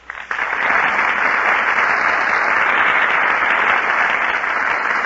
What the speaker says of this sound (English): That applause you hear, ladies and gentlemen, is for Alice Faye, Herbert Marshall, and Humphrey Bogart, who are just entering our Gulf Theater stage